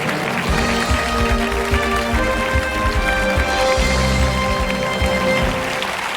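A French TV quiz show studio audience applauding, steady loud clapping sustained throughout under background music, with no voices.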